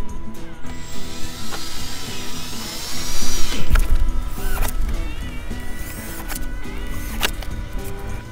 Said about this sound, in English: Don't shove that drill in there.